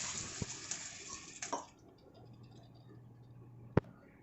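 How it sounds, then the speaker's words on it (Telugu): Water splashes into a cooking pot of yam tamarind curry for a second or so. A low, quiet simmering hum follows, broken by a single sharp metallic clink. "ఇవి కూడా మగ్గిన తర్వాత ఇందులో కొద్దిగా వాటర్ వేసుకోవాలండి"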